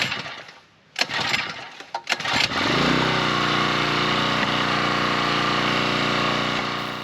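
A few clunks and knocks give way to a Champion 7 ton log splitter's small gas engine starting up and running at a steady, loud drone, close by.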